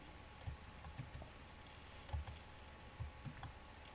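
Keystrokes on a computer keyboard, a few soft separate clicks in an irregular rhythm, quiet and close, with no talking.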